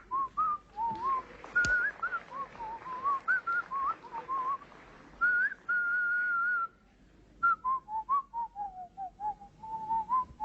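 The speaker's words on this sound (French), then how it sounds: "On n'entre pas dans un bureau administratif en sifflotant." A person whistles a lilting tune while walking into an administrative office, the clear melody rising and falling in short phrases with a few pauses, alone and close by.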